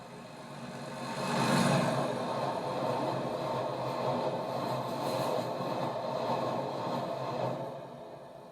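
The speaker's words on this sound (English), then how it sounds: "The train now approaching the platform is not for public use." A charter train rolls toward a station platform on a branch line, a steady broad rumble and rail noise that swells, holds and eases off over several seconds, moderately distant with no voices.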